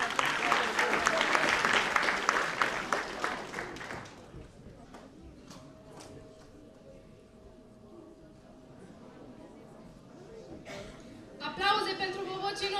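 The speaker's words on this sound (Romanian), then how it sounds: "Aplauze pentru ei." A crowd at a high school freshmen ball in Moinești gives loud applause for about four seconds, which fades into a quieter murmuring room with a faint tone, then talk and noise rise again at the end.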